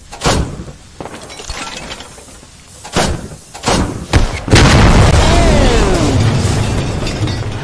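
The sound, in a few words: rocket explosion in the video game Squad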